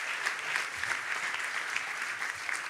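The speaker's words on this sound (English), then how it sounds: "Big round of applause for them." Steady audience applause at a conference event, a dense wash of many hands clapping at even loudness throughout, with no voices standing out.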